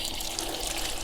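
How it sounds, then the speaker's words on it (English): Pressurized water hissing and rushing steadily from an opened RV water heater relief valve, a continuous broadband spray at close range with no pauses and no talking. "I need to go up here and I need to let the water pressure out."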